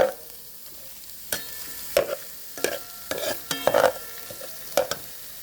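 Shallots fry in a pan with a quiet steady sizzle, broken by sharp metal clacks and scrapes as a utensil stirs them at irregular intervals, with no talk.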